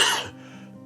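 A single short, close cough bursts out sharply, then drops away into quiet room tone.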